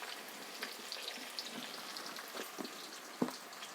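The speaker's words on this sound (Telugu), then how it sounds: "ఇది కొంచెం ఎర్రగా అయ్యే వరకు కొంచెం వేగనీయాలి." Onions with salt fry in a pan for goat head curry, a soft, steady sizzle with faint crackles and an occasional small pop, quiet and close.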